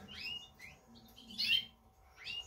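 A red brown jasper canary cock chirps in a breeding room, giving several short, bright tweets and a louder chirp in the middle, spaced irregularly and heard close and alone.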